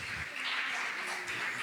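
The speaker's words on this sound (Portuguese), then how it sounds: "Você pode aplaudir a Ele?" A church congregation at a Tuesday service applauding, a brief, dense wash of steady clapping from many hands filling the whole moment.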